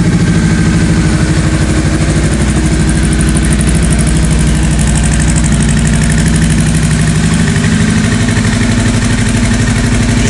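A Honda Rebel 500 (CMX 500) motorcycle engine idles steadily in neutral after a battery change, a close, loud, even rumble with no voices.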